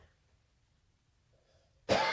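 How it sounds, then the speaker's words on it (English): A single sharp cough bursts out near the end, loud and close after nearly two seconds of quiet room tone. "I made a cough."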